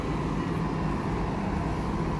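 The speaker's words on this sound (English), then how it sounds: "And there goes our bus." A bus rumbles away at Walt Disney World, a steady low engine drone with road noise, fairly close and continuous, no voices over it.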